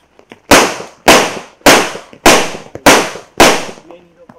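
Six loud, sharp pyrotechnic blasts on a TV serial set go off in quick succession, each exploding abruptly and then trailing off, evenly spaced about half a second apart.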